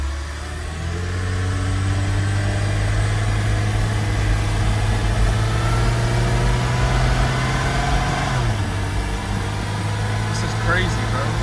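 A Porsche 986 engine hums at a steady idle with a low, constant drone, and its pitch drops slightly near the end, heard from inside the car with faint road noise.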